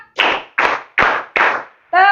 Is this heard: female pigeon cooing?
no